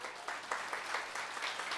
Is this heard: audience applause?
yes